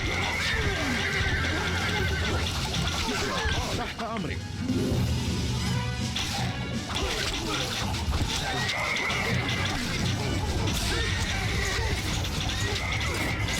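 Cavalry horses in the Stronghold Crusader strategy game neigh and whinny repeatedly over a dense, continuous battle din, with a voice talking throughout.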